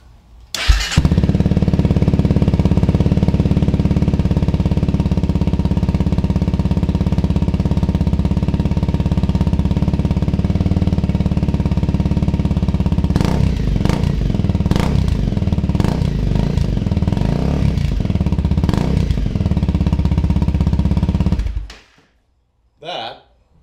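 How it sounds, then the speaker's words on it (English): A Honda CRF250L dirt bike engine with aftermarket exhaust runs loud and raspy up close, with sharp revving blips in the latter half before it shuts off. "We'll give it a go with the new pipe on."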